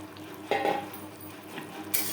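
Peeled potatoes cut into long pieces tumble into a pan of spices fried over a low to medium flame, giving a short burst of sizzle and clatter, then a quieter steady fry.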